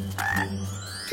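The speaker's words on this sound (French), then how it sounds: "Elles font beaucoup de bruit. Mais c'est une armée de grenouilles." An army of frogs croaking in a cartoon, a quick burst of several bright overlapping croaks over a low steady hum, ending in one higher croak.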